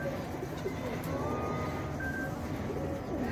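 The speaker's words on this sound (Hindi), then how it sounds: "ये दोस्तों ये हमारा चौथा कबूतर है" A pigeon coos softly against a constant outdoor background noise, with faint, brief calls rising now and then.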